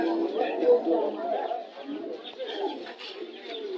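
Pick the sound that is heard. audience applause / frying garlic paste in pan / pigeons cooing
pigeons cooing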